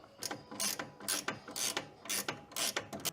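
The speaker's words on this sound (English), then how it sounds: "Just going to tighten the front up first and get that nice and" Ratchet clicking in repeated bursts while tightening a coilover and sway bar end link on a Subaru BRZ, the pawl rattling up close in quick back-and-forth strokes with short pauses between.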